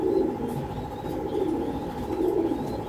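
A racing pigeon coos close by in low, throaty rolling phrases over a steady hum, with no voices over it.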